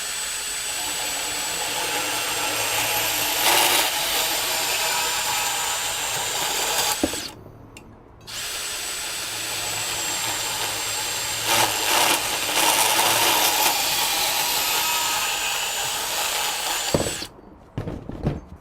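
A DeWalt 20V Max compact band saw (DCS377Q1) with an 18 TPI blade cuts through 1-inch EMT conduit, giving a loud sustained motor whine with a grinding blade edge, two long cutting passes broken by a short pause.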